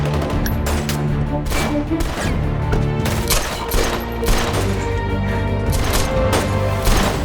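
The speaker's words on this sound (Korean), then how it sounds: "총알에 맞아버린 루소" Sustained gunfire from a film firefight, a dense rapid barrage of loud shots crackling continuously over a roaring battle backdrop with no break.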